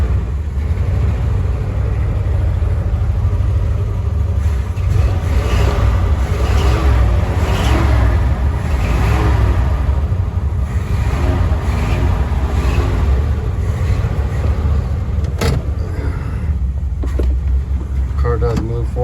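A 1970 Chevrolet Suburban half-ton with a V8 idles as a loud, steady low rumble after starting, a constant engine drone with faint mechanical clatter close by and some talk over it.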